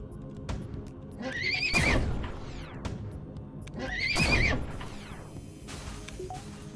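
Two loud horse whinnies, used as the firing sound of a weapon in the FTL Multiverse video game, ring out a couple of seconds apart over faint background game noise.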